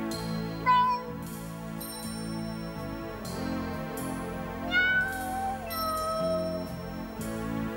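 A singer imitates a cat meowing and caterwauling in a 1986 Dutch cabaret song, with drawn-out sliding meows over piano and light chiming accompaniment, two prominent vocal cries standing out above the music.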